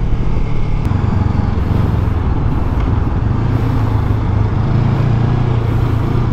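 2024 Honda NX 500 big bike riding, a steady loud engine drone with constant wind and road rumble, close and continuous throughout.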